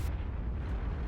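Heavy, rumbling tank cannon fire from World of Tanks on the Himmelsdorf map, a dense low boom that fills the entire short stretch with no talk over it.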